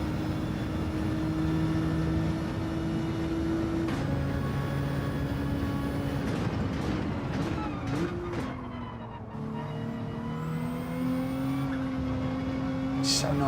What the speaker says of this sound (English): Get that rumble just pitches up slightly, gets a little bit stronger and richer